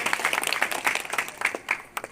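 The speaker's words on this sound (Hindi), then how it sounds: "ताली बजाइए उनके सम्मान में।" Audience applause at a rural women's gathering addressed by a former district panchayat president, dense rapid clapping from many hands sustained throughout, fairly close and lively.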